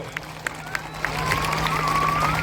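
An audience at an education expo claps for a team, starting as a few scattered claps and swelling into sustained applause and crowd noise with a voice and whistle-like tone over it.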